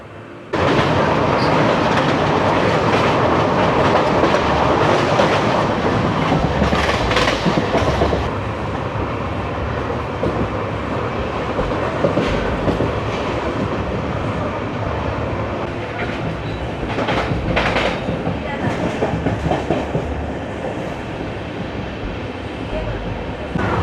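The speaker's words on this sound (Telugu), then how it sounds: "మన ట్రైన్ అయితే బయలుదేరిపోతుంది మన ప్లాట్ఫామ్ నెంబర్ 2 మీద నుంచి" A train pulling away from platform 2, a loud continuous rumble of wheels and carriages with clickety-clack beats and occasional squeals, close and steady throughout.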